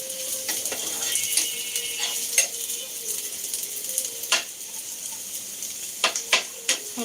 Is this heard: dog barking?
no